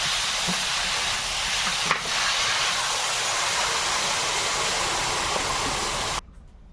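Water poured into a pan of hot spiced curry sets off a loud, continuous steamy hiss that holds steady for several seconds, then cuts off abruptly.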